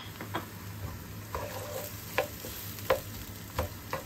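White onion joins browned garlic in a pan, giving a soft, steady sizzle with a spatula stirring and scraping every half second or so, close and fairly quiet, with no voices over the cooking.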